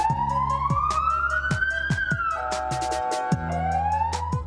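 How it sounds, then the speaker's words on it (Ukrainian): Ambulance siren from a vehicle stuck in a traffic jam on a Kyiv street, wailing and rising and falling continuously over a rhythmic pulsing beat. "Швидка з пацієнтом у салоні застрягає в тягнучці."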